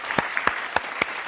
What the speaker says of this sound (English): Let's have one huge round of applause for everyone who's taken part today